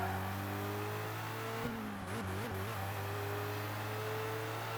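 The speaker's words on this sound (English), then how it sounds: "You can hear the chatter of the wastegate." A Mamba race car engine in ToCA Race Driver 2 drones steadily with a tonal hum, briefly dipping and wavering in pitch midway as the wastegate chatters.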